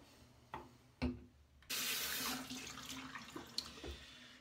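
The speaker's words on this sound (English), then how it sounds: "I'm going to rinse this off." Water from a bathroom tap runs into a sink while a razor is rinsed, starting with a few knocks and clinks and then a steady close rush of flowing water with small splashes.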